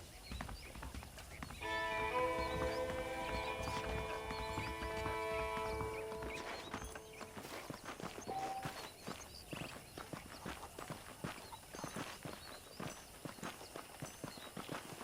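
Horses trotting in the video game Red Dead Redemption, a steady clip-clop of hooves at a walking-to-trotting pace with an occasional whinny, a sustained musical chord in the first half and quieter hoofbeats continuing alone afterward.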